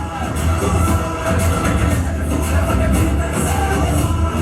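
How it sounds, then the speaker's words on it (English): Large crowd applauding and cheering at a film press conference for KGF Chapter 2, a dense, steady roar of clapping with scattered whoops and shouts held at a loud level throughout. "Huge applause, ladies and gentlemen"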